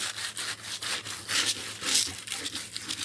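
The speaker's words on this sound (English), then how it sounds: "because the wood on this is just a little coarse, I'm using the big scrub brush because it gives a little more aggressive pressure" A big stiff-bristled scrub brush scrubs coarse wood in quick, repeated back-and-forth strokes, a steady rasping rub that stays close and fairly loud with no talk over it.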